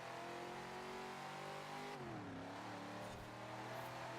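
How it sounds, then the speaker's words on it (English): Track car engine revving hard up a hill in second gear, a loud, close, sustained drone that dips briefly at a shift or lift-off and then keeps pulling, with no talk. "See if we can push it up this hill. Gotta bring it to second gear."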